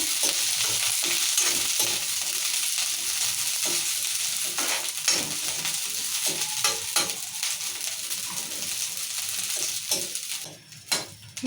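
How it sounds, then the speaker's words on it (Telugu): Green chillies frying in a pan for an ivy gourd chutney, a loud continuous sizzle and crackle with repeated stirring scrapes of a spatula against the metal throughout. "మిరపకాయలు బాగా వేయాలి"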